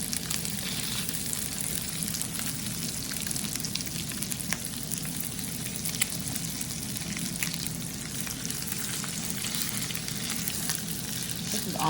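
Sausages for a Roman sausage sandwich fry in a pan, a continuous close sizzle and crackle of grease with scattered pops and no talk.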